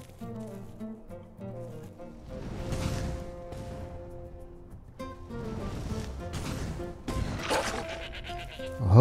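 Goat bleats in Skyrim, shaky and repeated, rise over a bed of soft game music, with a few whooshing sweeps between them.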